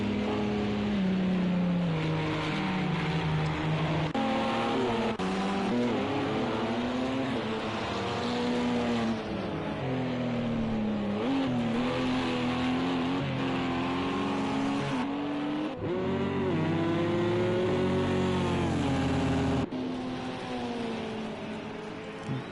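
LMP2 prototype race cars at WEC Silverstone on the Hangar Straight, one running in another's slipstream and pulling alongside: loud, sustained engine roar with rising and shifting pitch as the cars accelerate close by, heard without talk.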